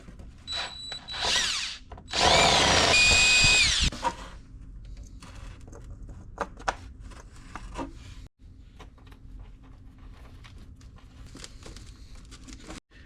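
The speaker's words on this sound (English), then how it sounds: "I'm going to go ahead and drill that hole and install that" A power drill with a 9/16 bit whines loudly for a couple of short bursts up close, drilling a hole in a Ford 7.3 Powerstroke truck, followed by quiet clicks and handling noises.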